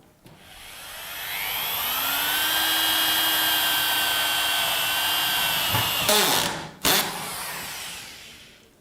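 Power screwdriver driving a screw into cementitious board: a steady whining motor run for about six seconds, then a couple of short bursts as the screw seats, close and loud with no talking.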